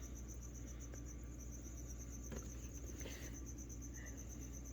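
Steady high-pitched cricket chirping pulses continuously throughout, with a low background hum and a few faint clicks.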